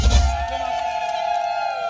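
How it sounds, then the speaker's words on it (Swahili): Wedding party guests cheering and ululating together, a loud crowd burst at the start settling into a sustained high trilling ululation that carries on steadily to the end. "Naomba tupongezane kwa makofi na vigelegele wote."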